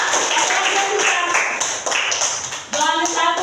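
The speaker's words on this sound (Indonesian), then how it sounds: "Oke, tepuk tangan." Brisk clapping from a class of students during a religious education lesson, dense and continuous, with voices mixed in throughout.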